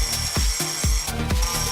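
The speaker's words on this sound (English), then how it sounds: "I'm going to be using an angle grinder with a diamond cut blade just to chop it off" An angle grinder fitted with a diamond cut blade bites into a bolt on a car's hood latch, giving a loud, close, high whine that rises and falls in quick repeated passes of about a third of a second.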